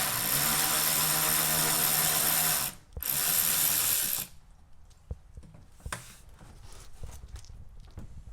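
A ratchet with a long socket extension works bolts loose on a 2011-2018 Porsche Cayenne GTS with the 4.8-litre engine, a dense, loud continuous clicking run for about four seconds with a brief pause, then scattered quieter clicks and clanks.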